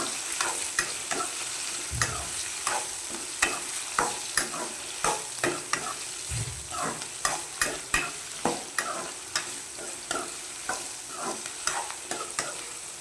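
Tomatoes and garlic sauté in a pan for vathal chutney, a soft steady sizzle under repeated scraping strokes of a stirring spoon. Two dull knocks sound against the pan, and no one speaks.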